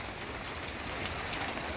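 Heavy rain pours steadily in the Philippines, a dense even hiss of downpour on surfaces with no breaks or voices.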